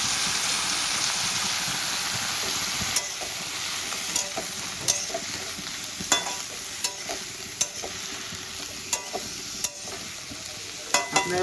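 Thin-cut strips of potato and eggplant frying in oil in a pan, heard as a loud, even hiss that grows louder, with sharp scraping clicks as a spatula stirs them at irregular intervals.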